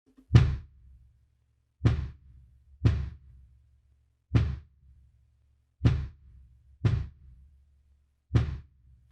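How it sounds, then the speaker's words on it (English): Seven punchy kick drum hits thump out alone at an uneven, spaced pace, each a short deep boom with a quick decay. "the kick drum sounds like this."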